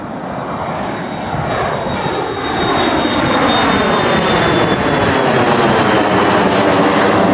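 Fixed-wing airliner at Green Bay Austin Straubel International Airport rolling down runway 24 on takeoff, a loud, steady jet engine roar that builds and holds throughout, with a faint rising whine above it.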